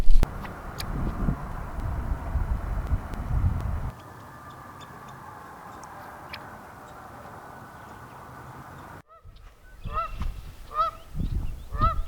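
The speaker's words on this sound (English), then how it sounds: "Geese." Geese honk repeatedly at a distance over low wind rumble by a pond in Iowa, then a few sharper, closer honks follow after a brief quiet moment.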